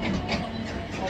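A MEMU train pulls out of Tadepalligudem station with a steady low rumble and a faint rattle of the carriages, heard from on board.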